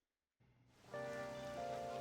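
Rain in the video game Persona 5 Royal starts after a brief silence, a soft patter joined by a steady tonal hum that grows fuller and holds, fairly faint and alone.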